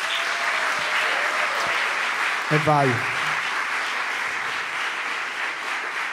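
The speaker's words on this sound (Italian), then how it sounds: "Applauso." Studio audience applause at the opening of an Italian live comedy talk show, a steady dense clapping wash running throughout, with a brief voice rising over it midway.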